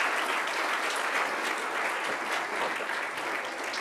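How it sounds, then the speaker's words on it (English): An audience at a low-carbon sustainability event applauds with a steady, dense wash of clapping that holds evenly from start to finish, fairly close and continuous. "Round of applause."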